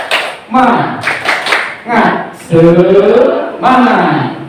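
Participants in a teachers' workshop on pandemic-era teaching perform a rhythmic spirit clap, bursts of claps in a patterned beat mixed with loud group chanting voices, close and energetic.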